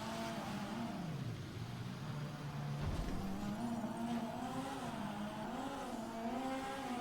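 A Supra car drives in GTA 5, its engine a steady, close hum that rises and falls in pitch as it revs and shifts, with one dull thump partway through and no talk.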